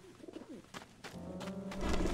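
Birds in the video game Fragile Dreams give soft, repeated dove-like coos, layered over a low in-game ambient hum that swells toward the end.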